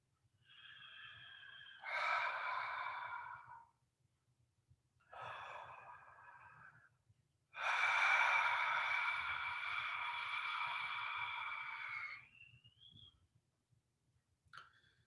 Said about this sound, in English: Let's get back the Ujjayi breathing active.